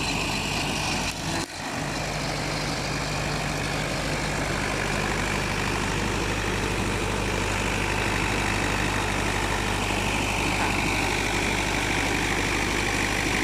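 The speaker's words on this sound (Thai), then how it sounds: "ก็ใช้ เครื่องสูบน้ำสูบน้ำออกมาก่อน" A water pump engine pumping water out of a pond runs with a steady, continuous low drone close by, a brief dip early on and no speech.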